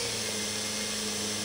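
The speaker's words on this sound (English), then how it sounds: "When you drill" Power drill boring through a Can-Am Trail Rider 570's body panel while installing Mud Busters mud flaps, a steady whining motor hum with a constant pitch, close and fairly quiet, with no talk.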